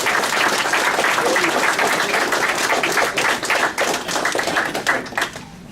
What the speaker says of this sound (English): let's give him a good round of applause